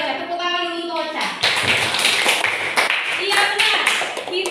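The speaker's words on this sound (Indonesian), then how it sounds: "Tepuk tangan dulu untuk Ocha." Children in an Indonesian primary classroom clap for a classmate, a burst of brisk hand claps that starts after a teacher's voice and keeps going, with a voice heard over part of the clapping.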